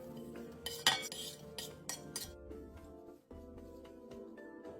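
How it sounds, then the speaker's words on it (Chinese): Prepared vegetables and fruit tumble into a large mixing bowl with a few close clinks and scrapes of utensils and dishes, then a quieter settling rustle. "这是备好的蔬果，全部倒入个较大料理盆"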